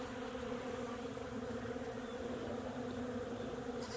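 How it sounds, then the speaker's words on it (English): Steady, droning buzz of many honeybees flying around nearby, a continuous hum with no pauses. "I got bees landing all over my head right now."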